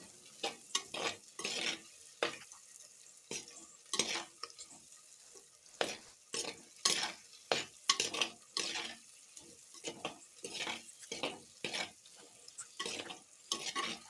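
Radish and mixed vegetables stirred and sautéed in a hot pan, with repeated scraping strokes of a spoon against the pan over a soft sizzle, coming in short irregular bursts close by.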